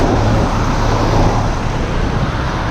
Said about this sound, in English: Got a truck behind us.